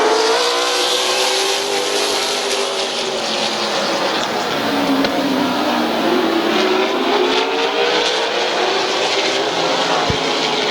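Race cars roar around Midvale Speedway in a continuous, loud wall of engine noise, with pitch shifting as cars rev and sweep past, no talk audible over the racing.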